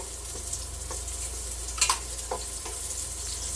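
Ginger, then onion and garlic, sautéing in a hot pan, a steady broadband sizzle with a few sharp pops and spatula scrapes close by, no voices.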